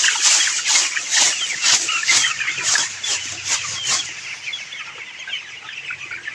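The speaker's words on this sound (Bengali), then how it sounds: "এই দেখুন মুরগিগুলা" Chickens, 22-day-old broilers in a poultry shed on a rainy day, cluck and chatter continuously at close range. The flock noise is dense, with repeated sharp pulses over a steady background.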